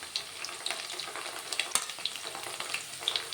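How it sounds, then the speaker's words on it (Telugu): Sliced onions and green chillies fry in oil in a pan with a steady, soft sizzle, broken now and then by small crackles and pops. The sound is close and even throughout, and no one speaks. "కొంచెం ఫ్రై అవ్వాలి ఉల్లిగడ్డలు."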